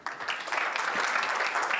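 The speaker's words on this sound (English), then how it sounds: "Let's give them another round of applause," A seated audience at a Kenyan Muslim medical professionals' scientific conference breaks into applause, swelling quickly into dense, steady clapping that fills the room.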